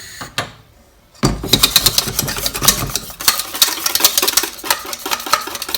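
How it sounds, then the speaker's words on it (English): Béchamel sauce being whisked briskly in a pan, a fast irregular metallic clatter of the whisk against the pan starting after a brief quiet moment and continuing loud and close to the end. "Give it a good whisk."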